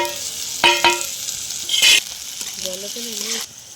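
Chopped onion, green chili, ginger and garlic fry and get stirred in hot oil for a fish and tomato curry, with a steady close sizzle, a few sharp clatters and a brief scrape near the end.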